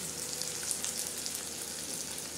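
Flattened rice (poha) dropped into a hot pan sizzles in a steady, close crackling hiss with no pauses or talk.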